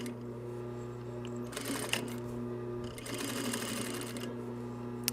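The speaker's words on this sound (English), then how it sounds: "hold for the first 2 stitches when you're starting your seam" A sewing machine stitches the start of a seam on a shoulder bag, running with a steady mechanical hum and rapid needle chatter in two short bursts separated by a brief pause.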